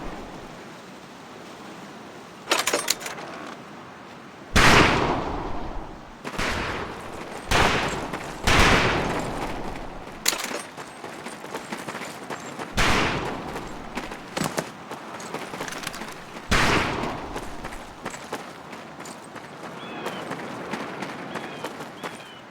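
Rifle shots crack out one at a time on a firing range in Medal of Honor Pacific Assault, loud, close sharp bursts spaced irregularly over a steady noisy backdrop.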